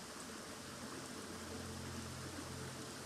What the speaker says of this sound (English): to the sounds of this heavenly waterfall.